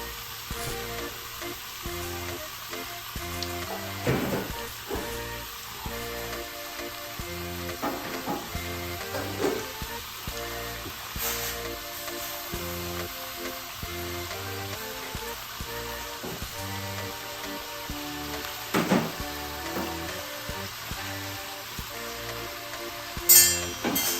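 Steady crackling sizzle of chrusty (faworki) pastry strips frying in hot oil, with occasional louder pops and spatters, continuous throughout with no voices.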